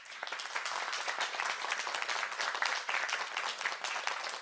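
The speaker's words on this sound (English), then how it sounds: "So round of applause for Raj." An audience at a political event applauds, producing a steady, even patter of many hands clapping at moderate volume throughout, with no speech.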